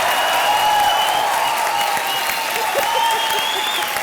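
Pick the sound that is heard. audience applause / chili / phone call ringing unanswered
audience applause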